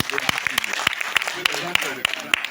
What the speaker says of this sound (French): Merci beaucoup de l'applaudissement